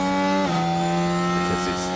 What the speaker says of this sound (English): So no matter whatever engine they're going to run, they're going to sound like this.